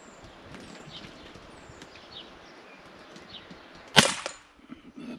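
A single sharp crack from an Artemis PP700 semi-automatic PCP air pistol in 5.5 mm, loud and close after a quiet stretch of faint outdoor ambience, followed by a short metallic ring.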